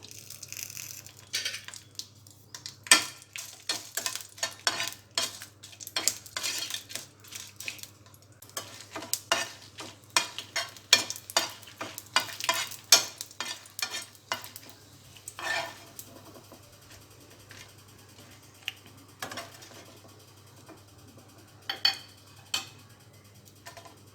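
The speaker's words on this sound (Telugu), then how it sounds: "ఆయిల్ వేడిన తర్వాత ఎండుమిర్చి ఫ్రై చేసుకోవాలి." Dried red chillies frying in hot oil in a pan, a quiet crackle punctuated by frequent sharp clicks and taps of a spatula against metal, irregular and close, over a low steady hum.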